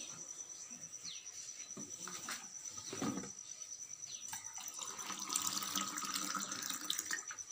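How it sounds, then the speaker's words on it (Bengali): Tap water runs steadily into a sink while hands are washed, a soft continuous hiss with crickets chirping in the background and no talking. "হাতটা ধুয়ে নিন ওইখানে হাতটা ধুয়ে নিন"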